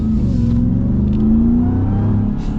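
Ram TRX pickup truck accelerating hard in sport mode, a loud, continuous low engine rumble rising steadily in pitch across the whole stretch, heard from close by.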